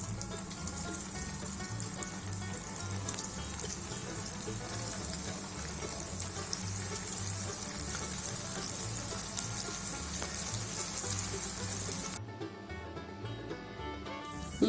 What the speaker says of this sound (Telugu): ఇప్పుడు మిగిలిపోయిన ఆనియన్స్ రింగ్స్ కూడా ఇదే విధంగా ఫ్రై చేసుకుందాము.